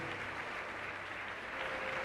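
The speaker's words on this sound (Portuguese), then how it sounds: "Aplauda o servo de Deus, amados." A church congregation applauds, steady dense clapping from many hands that fills the short moment without pause.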